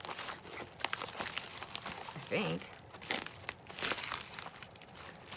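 Scotch scissors snip and trim a crinkly candy wrapper, giving close, repeated rustling and crunching under steady talk.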